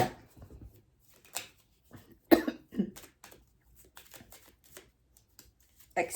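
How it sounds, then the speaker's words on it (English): Oracle cards being shuffled to draw one: scattered soft riffling and flicking bursts, a couple briefly louder, separated by quiet gaps, with no talking. "Let's pull a soul expression card for an outcome."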